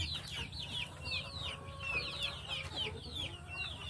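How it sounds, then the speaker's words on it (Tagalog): Three-month-old Rhode Island Red chickens on a small farm cluck and chirp in quick, overlapping bursts, several birds close by, with a low rumble beneath. "At ito naman yung mga 3 months old na Rhode Island Red. Makukulit yung mga ito."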